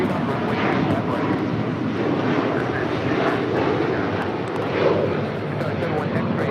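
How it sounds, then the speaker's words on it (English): A heavy Airbus jet takes off from a parallel runway at LAX, a continuous broad engine roar heard from a distance, with radio voices talking over it throughout. "Caution, wake turbines, heavy Airbus departing off the parallel runway."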